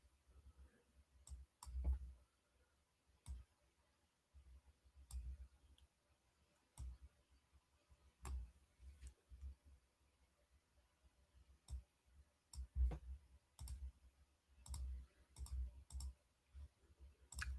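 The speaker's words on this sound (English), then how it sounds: "you should appreciate my mouse clicks because that's all the indication that I'm alive and well" Computer mouse clicks during digital comic inking work, sharp isolated taps spaced irregularly, sometimes in quick pairs, quiet and close with no talk.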